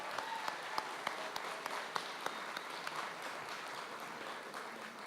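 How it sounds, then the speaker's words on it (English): Guests at a county Hispanic Heritage Month gala applauding themselves, a quiet, somewhat distant round of clapping with a few crisp individual claps popping out above the softer crowd patter. "Give yourself a round of applause for it."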